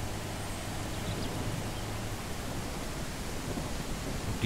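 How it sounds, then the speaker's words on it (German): Steady broadband hiss of rain with a low rumbling undertone, continuous and even throughout, like a distant thunderstorm, in the video game Mist Survival. "Oh, es ist sogar Gewitter."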